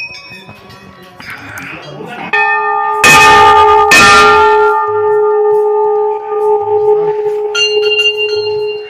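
At Chitai Golu Devta temple in Almora, bells are struck loudly twice in close succession and ring on with long resonant tones. Soft voices and footsteps of visitors sit beneath, and a lighter bell chimes near the end.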